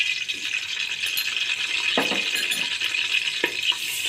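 Garlic ginger paste sizzling in ghee inside a pressure cooker, a bright steady hiss with occasional soft spoon clicks and stirring scrapes, close and moderately loud.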